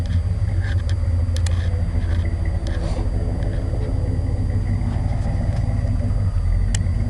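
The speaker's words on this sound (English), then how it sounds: "Idles at about a grand. It's got a nice rumble." A 1990 Chevy K-5 Blazer V8 idles at about a thousand rpm, a steady loud low rumble close by with faint ticking and hiss on top, unchanging throughout.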